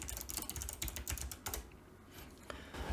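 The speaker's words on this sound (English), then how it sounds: "you can type in whatever text you later want to appear" Typing on a computer keyboard: a quick, close burst of clicking keystrokes in an uneven rhythm, then a brief pause before a few more taps.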